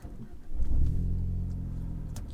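A 2018 Ford Focus ST's engine rumbles and revs up as the car pulls away, a deep, steady low drone close by with no talking over it.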